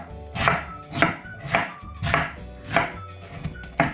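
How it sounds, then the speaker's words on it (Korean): A knife chops through radish for white kimchi on a cutting board, seven loud, evenly spaced thuds, one roughly every half second, with no voices. "이제 이렇게 무까지 다 썰었거든요"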